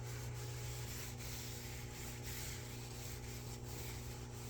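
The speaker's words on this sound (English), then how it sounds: "So as we wipe, you can see it taking the grease off." A cloth rubs steadily across a greasy range hood during cleaning with SuperClean degreaser, giving a soft, continuous scrubbing swish over a low steady hum.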